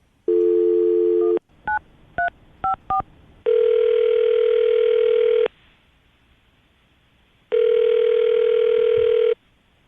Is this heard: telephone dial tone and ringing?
yes